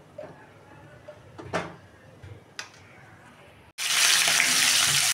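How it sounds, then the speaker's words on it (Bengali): Fish head frying in oil in a wok, a loud steady sizzle that bursts in abruptly and holds after a few soft kitchen clatters. "মাছের মাথা ভাজার জন্য আমি তেল দিয়ে দেবো কড়াইতে"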